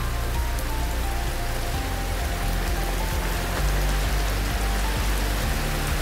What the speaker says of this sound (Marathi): पाऊस सुद्धा चालू झालेला आहे